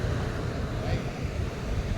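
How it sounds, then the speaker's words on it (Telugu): Sea waves on the shore at Dwarka, a steady, broad washing roar mixed with wind buffeting the microphone, constant and fairly loud throughout. "సో ఇది సముద్రం అనమాట."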